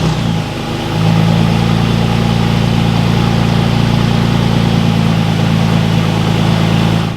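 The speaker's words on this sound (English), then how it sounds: "with that first cold startup for this AWE exhaust, it sounds really good" A Toyota Tacoma engine turns over on a cold start and settles into a steady, deep, throaty idle through an AWE true dual exhaust, with a low rumbling drone, loud and close, no voices.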